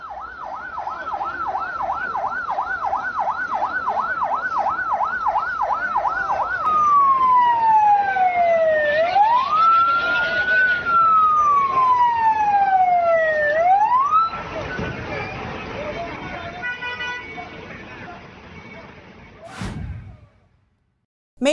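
Police car siren arriving at a scene in a Chinese city, first a rapid yelping warble, then slow rising and falling wails, loud and near, over traffic noise before fading out.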